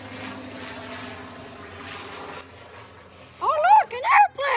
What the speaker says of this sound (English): Oh, look, an airplane!